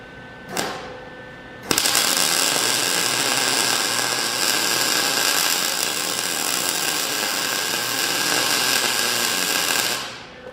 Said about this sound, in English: I'm going to weld these so you guys can kind of see what that white smoke looks like.